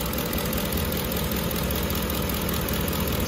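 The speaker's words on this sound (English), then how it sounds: "So we're gonna go ahead and start back up and try it out. Let's see what it is. Check that idle on there." Car engine idling just after restarting, following a badly done ignition timing job: a steady, loud, rumbling idle close by, uninterrupted and without talk.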